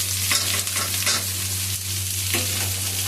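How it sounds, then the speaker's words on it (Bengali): Chopped onion and green chilli hit hot oil after fried garlic, crackling and sizzling up close while being stirred, with scraping bursts over a low steady hum. "তারপরে আমি দিয়ে দেবো পেঁয়াজ কুচি আর লঙ্কা কুচিটা"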